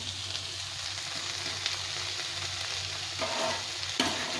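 Fried potato and chickpeas stir-fried in a pan, a soft continuous sizzle with a couple of brief spatula scrapes near the end, quiet and close with no talking.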